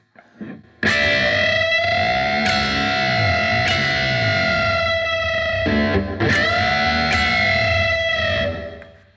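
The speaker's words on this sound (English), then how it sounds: "that's a whole tone bending, and I'm gonna push the note further up" Distorted electric guitar notes are picked and bent upward a whole step, repeated several times with sustained, echoing tone and no talking.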